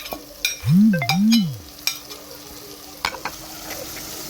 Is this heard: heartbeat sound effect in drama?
no